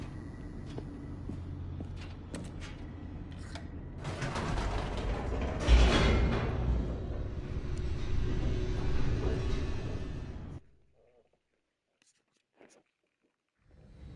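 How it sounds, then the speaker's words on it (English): An elevator descends in The Stanley Parable video game with a mechanical rumble and creaking grind that swells louder midway, then cuts off abruptly into near silence. "The elevator raced downward, plummeting towards an unknown fate"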